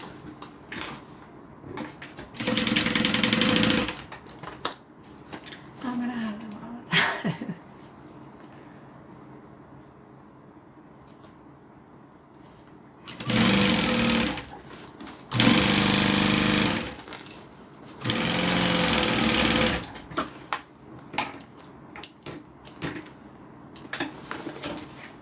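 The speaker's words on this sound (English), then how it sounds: "let me sew these sides down" A sewing machine stitching the sides of a zip-around wallet runs in several loud, steady bursts of a few seconds each, separated by quieter pauses with handling noises.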